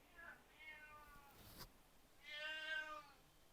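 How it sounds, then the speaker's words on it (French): A pet cat meows twice, a short call followed by a longer, louder, melodious one, close by in a quiet room with a brief knock in between. "Là, mon chat arrive en courant."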